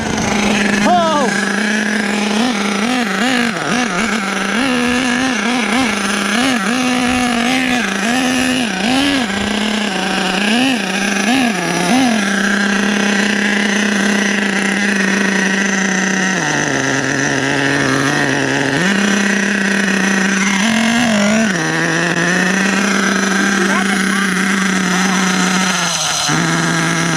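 The buzzing nitro engine of an HPI Savage XL K5.9 RC truck runs on grass, its pitch warbling and surging up and down with throttle. The loud engine whine continues throughout, with voices talking over it.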